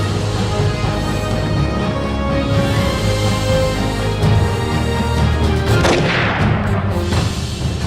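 Motion mines blow up a tank in the Battlefield 2142 game, heard as heavy booming blasts inside a constant loud wash of battle noise, with a sharper burst near the end.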